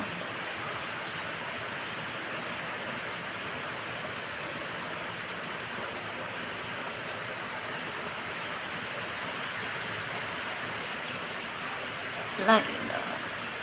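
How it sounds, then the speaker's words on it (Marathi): Rain falls steadily, making an even, unbroken hiss for the whole stretch, with one brief knock near the end. "पाऊस आहे का हो पाऊस आहे ना"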